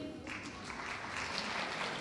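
Audience applause at a children's poetry recital, a steady wash of clapping from the crowd that holds evenly for the whole stretch with no voices over it.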